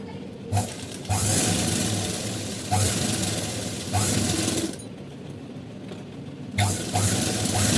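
Sewing machine stitching a double-stitched seam on a blouse, running in rapid mechanical bursts of a second or two with brief pauses between them, close and steady, with no talking.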